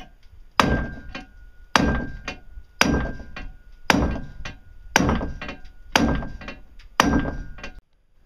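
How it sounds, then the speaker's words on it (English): A hammer strikes a pump propeller to bend it: seven sharp, evenly spaced metallic blows about a second apart, close and clear, each with a short ringing tail. "I will try hammering this side a little, try to bend it a little bit"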